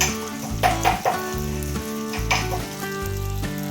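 Surmai (kingfish) fish pieces frying in a pan Agri-Koli style, with coriander sprinkled over them, giving a close, steady sizzle and spatter that swells and eases in waves, with music playing over it.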